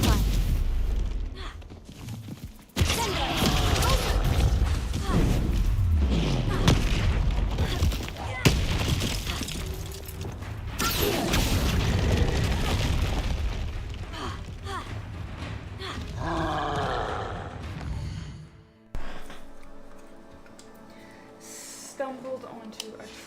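Troll fight in the game Hogwarts Legacy: heavy thuds, booms and roaring bursts of combat with spell effects, loud and continuous for most of the stretch, ending in a quieter passage with music-like tones.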